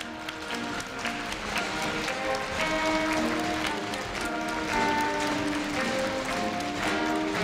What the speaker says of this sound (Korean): 네, 끊임없는 환송의 박수 부탁드립니다.